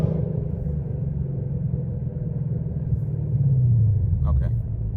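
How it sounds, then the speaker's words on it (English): A manual Ford Mustang Dark Horse with about 1200 horsepower rumbles from inside the cabin, its engine note briefly rising as it blips for a rev-matched downshift, under steady road noise with people talking. "Oh, the rev match."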